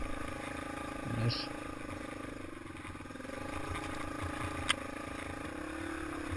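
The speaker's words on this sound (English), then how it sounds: "I'm riding the Yamaha XT225 at this point." A Yamaha XT225 motorcycle ridden along an early-spring woodland trail, its engine a steady, moderate drone with brief scrapes and a sharp click, while someone narrates over it.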